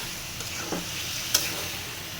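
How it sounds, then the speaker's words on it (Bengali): Potatoes and chicken stir-fried together in a pan give a quiet, steady sizzle with a few soft scraping stirs and one brief clink partway through, without talk. "আলু আর মুরগির মাংস দিয়ে নেব সবগুলো একসঙ্গে কষিয়ে নেব ভালো করে নেড়ে চেড়ে"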